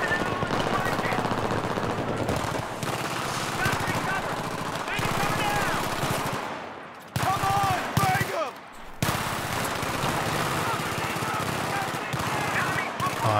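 Sustained machine gun fire rattles through a Battlefield 3 combat scene, dense rapid bursts nearly nonstop with brief pauses, and voices speak over the gunfire.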